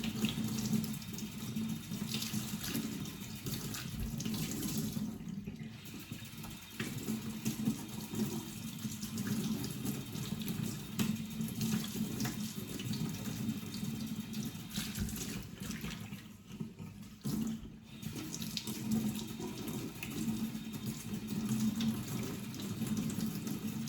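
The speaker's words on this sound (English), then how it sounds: "just let the water run through it and keep squeezing it" Tap water runs steadily through a Shark vacuum filter as it is squeezed under the faucet, a continuous close splashing rush that carries on for the whole stretch with no talking.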